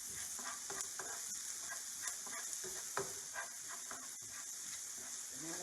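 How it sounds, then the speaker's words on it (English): Soft scraping and clicking of a spoon stirring a spinach dip mixture in a pot, quiet and irregular over a low sizzling hiss. "we're going to stir it up"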